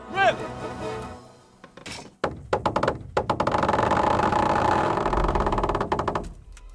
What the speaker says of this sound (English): That was just the first shot. The trebuchet has to be calibrated.